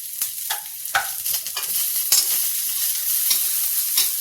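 Peas sizzle with spices in a hot pan for an aloo baingan chokha, loud and close, with repeated scraping strokes of a spatula stirring over a steady frying hiss.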